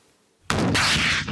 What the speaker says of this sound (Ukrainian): Оці військовослужбовці стріляють з гранатомета перший раз